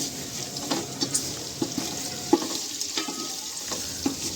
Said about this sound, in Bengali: কেটে রাখা পেঁয়াজটা অ্যাড করে দিলাম পেঁয়াজটাও আমরা ভালোভাবে ভাজবো যতক্ষণ না হালকা বাদামি কালার আসে